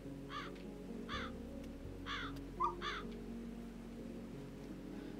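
Four harsh crow caws from the video game Calico, evenly spaced over a steady low musical drone, with a brief soft chirp between the last two calls and no talking.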